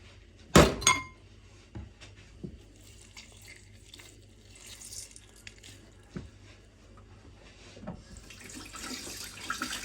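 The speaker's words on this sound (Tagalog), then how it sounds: "Hugas ulit tayo ng kamay." Hands are washed under a running kitchen tap while cooking beef salpicao. A sharp clink of glass or metal comes first, then a faint hiss of water with scattered soft knocks, growing stronger near the end.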